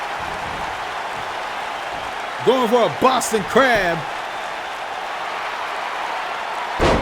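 A wrestling arena crowd in a WWE2K match murmurs as a steady loud roar underneath a commentator's voice, with a brief louder swell at the end.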